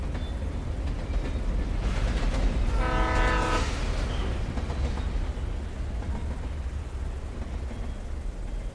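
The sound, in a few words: train passing over railway bridge in video game Alan Wake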